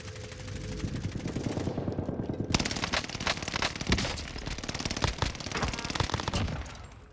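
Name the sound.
gunfire from the video game Warzone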